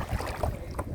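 Kayak gliding on the Kavvayi river backwaters, with soft water movement under steady wind noise buffeting the microphone, continuous and fairly quiet for a moment.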